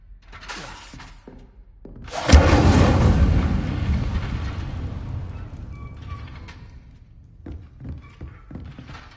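An Incendio fire spell in a video game erupts with a sudden loud whoosh of flame that roars and slowly fades over several seconds, followed by smaller crackles and thuds.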